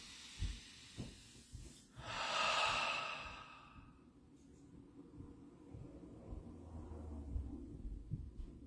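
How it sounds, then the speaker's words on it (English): One long, deep breath is drawn in and slowly let out, a soft airy rush lasting a couple of seconds amid quiet room noise and a few faint bumps. "deep breath"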